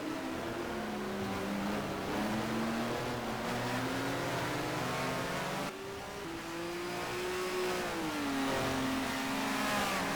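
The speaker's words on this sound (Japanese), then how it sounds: "エンジン音が小さい時が多いのにお気づきでしょうか。" A racing car engine in the video game F1 Challenge '99-'02 drones continuously, its pitch rising and falling through gear changes with one brief shift midway, steady and fairly loud throughout.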